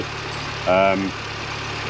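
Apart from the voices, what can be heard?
Mini One/Cooper R50 engine idling after alternator change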